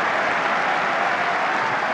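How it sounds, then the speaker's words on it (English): Away football fans applaud in a stadium, a broad, even wash of clapping at steady loudness from a distant crowd. "Another round of applause from the away fans"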